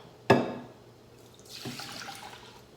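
Red Moscato wine pours from a bottle into a saucepan. A sharp clunk is followed by a soft, close liquid splash and trickle that fades out, with no talking.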